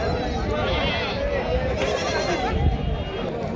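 Goats bleat repeatedly at a busy rural livestock market, their cries close and overlapping above a constant murmur of crowd voices and nearby talk.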